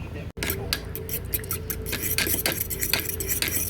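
Utensil scraping and clinking against a bowl while shrimp dipping sauce is stirred, spiced with Tony Chachere's seasoning; steady close-up scraping strokes with brief metallic taps, running under room noise.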